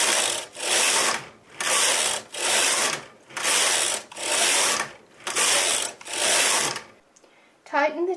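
A knitting machine carriage is pushed across the needle bed in eight repeated passes, each a loud mechanical rasping sweep separated by brief pauses, working a fern lace pattern; a short voice follows at the end.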